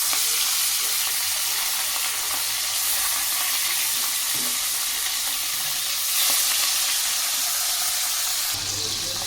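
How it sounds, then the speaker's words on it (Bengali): Bhola fish pieces fry in hot mustard oil with a steady, loud, close sizzle that crackles continuously throughout, with no voices over it. "দেখো মাছগুলো ভাজা হতে থাকো"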